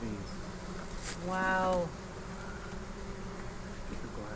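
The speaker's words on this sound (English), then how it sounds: "Ooh, wow. They are going at it. That is a lot of bees." A dense, steady buzzing of many bees close by, with a short spoken exclamation rising over the drone partway through.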